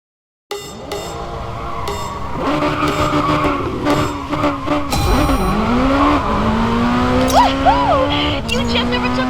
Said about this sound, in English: You just overtook Mom from Lone Racing